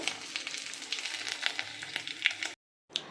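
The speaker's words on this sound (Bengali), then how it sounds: "জায়গা করে সব পাঁপড়গুলো ভেজে নেব।" Papads fry in hot oil one at a time, a soft crackling sizzle with small popping bursts, cutting to silence briefly before a last crackle.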